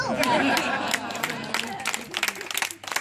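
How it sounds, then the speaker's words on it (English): Audience applause at a magic show, a short burst of scattered clapping mixed with crowd chatter, starting under a voice and ending in separate claps. "That's the applause cue."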